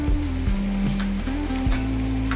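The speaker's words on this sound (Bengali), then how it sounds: "এবার আমি এর মধ্যে অল্প পরিমাণ জল দিয়ে নেব।" Spiced, already-boiled potatoes sizzle loudly in a pan as a small splash of water hits them, a dense continuous crackle close up with a low hum running underneath.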